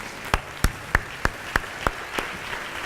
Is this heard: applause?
yes